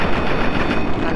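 Rapid gunfire from a firearm in the video game Fallout 3, a dense continuous burst of automatic shots filling the whole moment at close range and high loudness, with no pauses between rounds.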